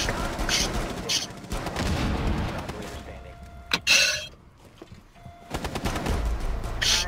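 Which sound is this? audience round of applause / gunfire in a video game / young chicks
gunfire in a video game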